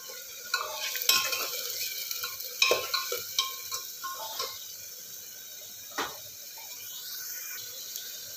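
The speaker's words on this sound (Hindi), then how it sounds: "मसाला भून लेते हैं और साथ में मटर भी डाल देते हैं।" A spatula stirs frying masala and green peas in a pan, giving scattered scraping strokes over a soft, steady sizzle, busier early on and then thinning to occasional clinks.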